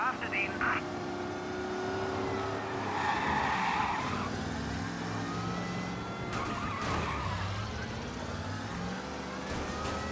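Cars in a police chase in Mafia Definitive Edition, with tires skidding and squealing and engines revving through a busy game mix, and people talking over it.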